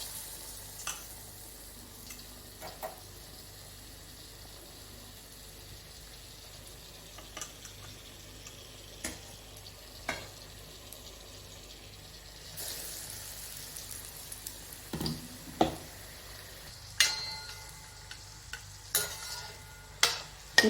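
Green chili bajji frying in hot oil, with a steady low sizzle and scattered sharp pops and clinks as the batter-dipped chilies are dropped in and turned.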